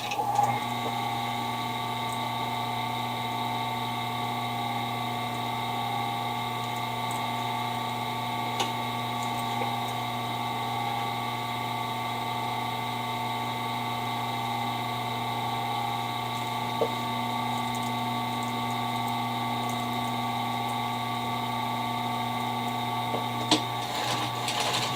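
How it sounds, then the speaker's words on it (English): A sewing machine runs steadily while stitching up a bulky pillow seam, its even mechanical whir holding for the whole stretch with a few faint clicks and no talk. "So we'll just go ahead and sew this up."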